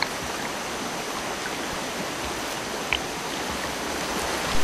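River water flowing near Gunung Bawang, a dense steady rush of stream noise, close and continuous, with a faint splash near the middle and no voices.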